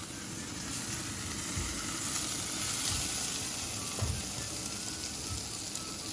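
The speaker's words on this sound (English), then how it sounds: "So I'll just like saute it for maybe half a minute before adding chopped tomatoes." Onions sizzle and fry steadily in a pan as they turn golden brown, a continuous crackling hiss with a few soft stirring knocks, heard alone without talk.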